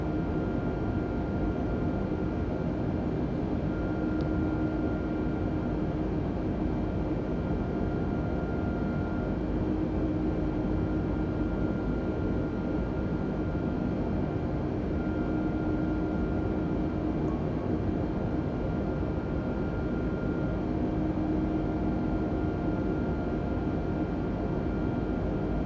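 Steady, even cabin drone of an airplane in flight while banking into a left turn to come parallel to the runway, a constant broadband engine and airflow roar with no talk.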